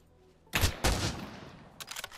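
Revolver pistol shots ring out in Pavlov, two loud sharp cracks close together with echoing tails, then a quicker cluster of fainter shots near the end.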